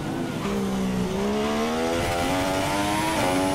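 High-pitched Formula One car engine in the game F1 2016 revving and climbing through gear changes, a loud, close, rising whine with stepped pitch shifts and no talking.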